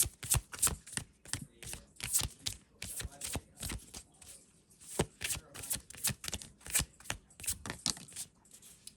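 Tarot cards are shuffled and pulled by hand: quick, close, rhythmic riffles and flicks in repeated bursts, crisp and fairly quiet, with no voices.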